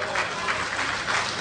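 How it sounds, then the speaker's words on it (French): Sustained applause from a crowd at a political rally for an electoral campaign launch, a steady dense wash of clapping with faint voices mixed in. "Nous applaudissons"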